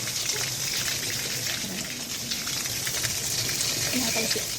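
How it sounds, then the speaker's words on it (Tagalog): Water running hard from a tap in a bathroom of a room in Taiwan, a steady hissing gush with spattering droplets, close and continuous for a few seconds. "Malakas yung tubig."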